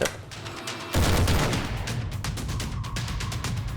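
Heavy bolter fire in a Warhammer 40k tabletop game erupts suddenly after a quieter moment into a loud, sustained string of rapid booming shots that continues to the end.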